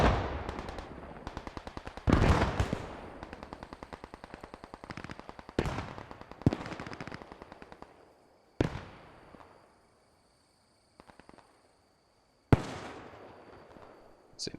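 Wartime video game battle with an 88mm anti-tank gun firing: repeated sharp, loud blasts in rapid bursts with rolling echo, then spaced single booms separated by near silence.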